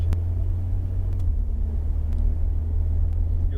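Supercar rolling slowly down a pit lane onto a race track, a steady deep engine rumble close by with no revving.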